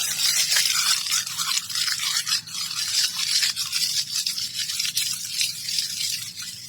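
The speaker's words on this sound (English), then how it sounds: "Now I'm going to crumble it." A cut strip of newspaper is crumpled by hand for a paper rose, giving a close, continuous crackling rustle with quick uneven crinkles and no talking.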